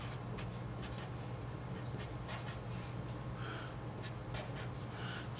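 Hand writing of math problems gives a series of soft, close scratchy strokes in short bursts over a steady low background hum.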